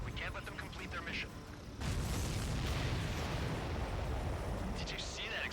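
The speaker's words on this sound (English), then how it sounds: "Did you see that explosion? Looks like that's one of them down." An explosion in the Ace Combat 7 video game bursts in as a sudden deep, sustained roar that swells loudly and rumbles on for several seconds, with lighter crackling and game sounds around it and no clear talk.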